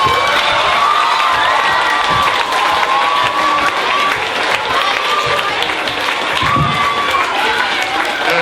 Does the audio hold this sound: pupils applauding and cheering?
yes